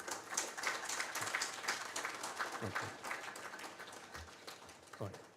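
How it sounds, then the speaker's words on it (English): Faint, distant applause from an audience at a book launch in a hall, with scattered individual claps and some talk mixed in. "So a very warm round of applause for the team."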